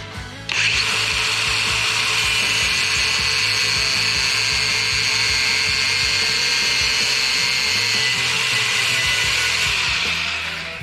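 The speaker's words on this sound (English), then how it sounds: "I decided to cut it shorter with the angle grinder." Angle grinder cutting a bolt shorter on a Jeep CJ7 engine, a loud, steady high-pitched whine with grinding rasp that starts abruptly and holds for about ten seconds before easing off.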